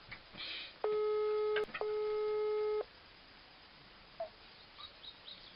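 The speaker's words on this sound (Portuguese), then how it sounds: "Olha só, Duda, por favor, atende." A telephone line beeps in two long, steady electronic tones one after another while a call waits for an answer, with brief quiet chatter before and after and a faint chirp later.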